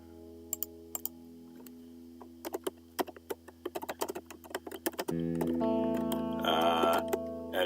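Someone types on a computer keyboard in scattered bursts of clicking keystrokes, light and close, over a steady tonal background hum with no speech.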